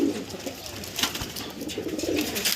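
Pet pigeons cooing softly and repeatedly, several low, throaty coos overlapping close by, with no voices.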